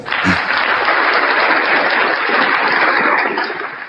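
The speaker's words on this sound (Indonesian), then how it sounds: "Tepuk tangan buat Tuhan." An audience at a religious talk breaks into a loud, continuous burst of clapping that swells quickly and holds steady for several seconds before tapering slightly at the end.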